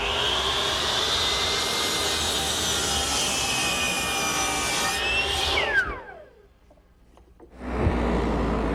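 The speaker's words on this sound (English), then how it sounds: "While the radial arm is still turned to 45 degrees, I'll cut the 5 collar ties and the 5 top blocks to size." A radial arm saw set to 45 degrees cuts wooden collar ties and top blocks for a greenhouse frame. It gives one loud, sustained whine that drops in pitch as the blade spins down, a brief near-silence, then the motor starts up again.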